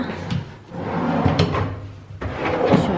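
A hidden drawer in a new wardrobe slides open and shut with close, woody rumbling scrapes and a couple of soft knocks, repeated over a few seconds with no one talking.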